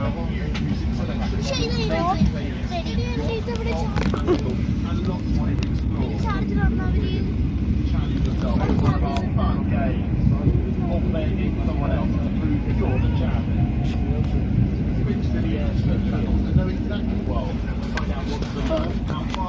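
Steady, loud broadband roar of an Emirates airliner cabin in flight fills the whole stretch, a constant drone with faint voices and small cabin sounds beneath.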